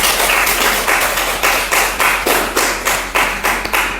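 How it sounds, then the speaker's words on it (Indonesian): A classroom of students claps for a presenting student group in a loud, close, rhythmic pattern, with sharp bursts repeating at a steady beat for several seconds. "Tepuk tangan untuk kelompok 1."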